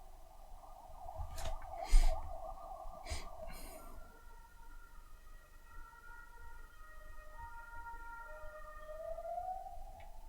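Ambulance sirens passing outside, faint and distant, wailing tones rising and falling in the background over quiet room noise, with a couple of brief clicks and no talk.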